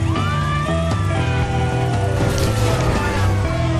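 Wailing police sirens in Grand Theft Auto V rise and fall over a dense, loud game soundscape with engine rumble, continuous for a few seconds.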